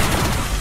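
Rapid, dense automatic gunfire from an upgraded MG42 machine gun in a Call of Duty zombies game, a continuous loud burst of overlapping shots with no pauses.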